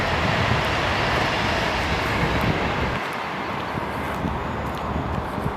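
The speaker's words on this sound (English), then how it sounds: "Train going past." A loud, steady rumbling roar of a train passing close by at Westport Lake, continuous throughout and easing off slightly partway through.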